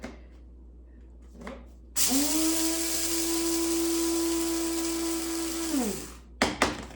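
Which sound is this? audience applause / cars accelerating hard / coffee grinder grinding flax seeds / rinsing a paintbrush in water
coffee grinder grinding flax seeds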